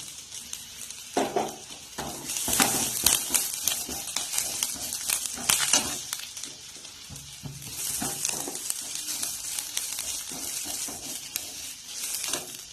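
Curry leaves and cooked koorka (Chinese potato) stir-fried in a hot pan, sizzling loudly and steadily with bursts of spatula scraping and stirring throughout, no voices.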